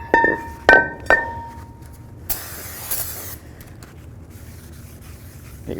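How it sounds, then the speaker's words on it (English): Aerosol parts cleaner hisses onto the rear brake rotor of a 2015-20 GMC Yukon in a burst of about a second, preceded by a few sharp metallic clinks and followed by quieter shop noise. "A little bit of parts cleaner"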